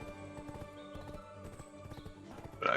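Horse hooves clip-clopping in a steady walking rhythm from the video game Black Desert Online, fairly quiet over game music, with a brief louder burst near the end.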